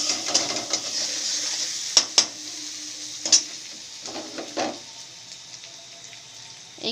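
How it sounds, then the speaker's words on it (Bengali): Ginger, salt, sugar and spices are stirred and sautéed in a pan, giving a soft steady sizzle with scraping of a spoon and a few sharp clinks of utensil against the pan, close and moderately quiet. "এবার নুন, চিনি, সব মশলাগুলো দিয়ে দেবো। দেখতে পাচ্ছ কষছি।"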